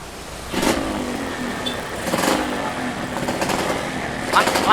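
A Yamaha RX-King two-stroke motorcycle engine revs in short, repeated bursts that swell and fade under close conversation between people standing nearby.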